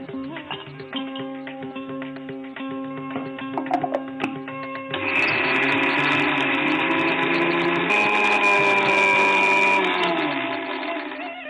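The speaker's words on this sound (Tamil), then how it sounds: "இப்போ நம்ம தேங்காய் துருவலையும் நம்ம அரைச்சி எடுத்து வச்சுக்கணும்." Kitchen mixer grinder grinding grated coconut, a steady whirring motor drone that rises louder and higher midway and keeps running close up.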